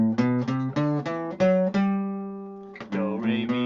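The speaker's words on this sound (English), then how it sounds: "That major scale has its own unique sound like that." Guitar playing a major scale, a run of clear plucked notes in steady succession, the last one left ringing before a few more quick notes, bright and close with no talking.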